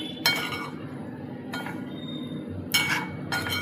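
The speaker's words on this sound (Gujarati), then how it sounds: "હલાવી લેવાનું છે બધા મસાલાને" A metal spoon stirring colourful spices for a Gujarati kantola (spiny gourd) sabji in a pan on a gas flame: four separate bright clinks at uneven intervals over a low background hum, with no talk.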